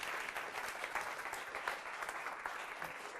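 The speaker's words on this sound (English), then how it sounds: "Give him a nice round of applause" Audience applause at a live mentalism stage show, a dense, steady wash of clapping hands that holds at an even level for a few seconds with scattered louder claps.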